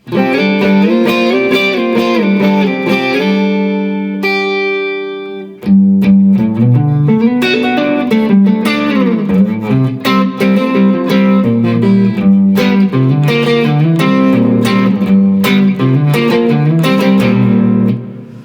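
Electric guitar plays the lively intro to a song, a held chord followed by brief quiet, then quick strummed and picked passages, loud and upfront.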